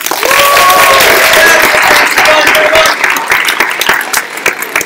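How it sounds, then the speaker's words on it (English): Loud, dense applause from a student audience at a Turkish cultural event, sustained clapping with a few cheers and whistles that tapers off toward the end. "Big round of applause!"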